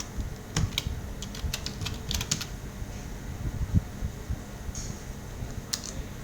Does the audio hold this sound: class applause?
no